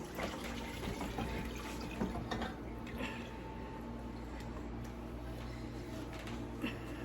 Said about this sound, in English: we are going to dump the water into this saucepan